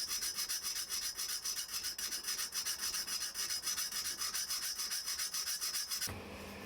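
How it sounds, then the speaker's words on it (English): A hand file rasps notches into a homemade straightedge for guitar building, in fast, even back-and-forth strokes that repeat steadily for several seconds before stopping abruptly. "take your favourite file and file away all of the notches"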